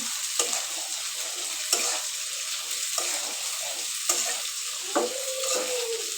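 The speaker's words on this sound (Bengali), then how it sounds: "আর এদিকে হচ্ছে যে বেগুনটা আমি কষাই নিতেছি" Eggplant stirs and sizzles in a hot pan, a steady frying hiss broken by sharp periodic scrapes of a spoon against the pan.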